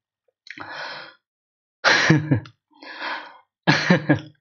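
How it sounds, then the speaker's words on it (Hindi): Four close coughing bursts separated by short pauses, the second and fourth louder and sharper, with no talking. "थोड़ा सा खांसी हो जा रहा है"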